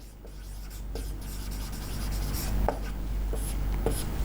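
Chalk or marker writing out a heading on a board during a chemistry lecture: steady scratchy strokes with a few sharp taps, close and fairly quiet, with no talking.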